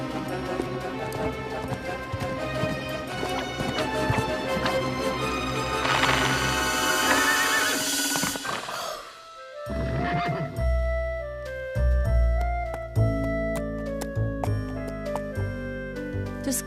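A cartoon horse ridden by a lonesome cowboy whinnies and clip-clops amid a busy orchestral score, loud and continuous, with a brief dip before the music swells again.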